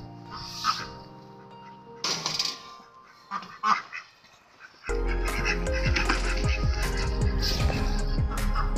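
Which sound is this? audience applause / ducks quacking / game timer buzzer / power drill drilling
ducks quacking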